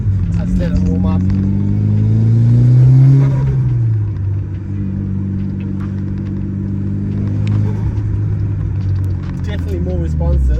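A Mitsubishi Evo 9 wagon with a new Hypertune manifold and Invidia downpipe idles loud and close as it warms up, its low exhaust rumble swelling in a brief rev before settling back. Someone talks over the engine.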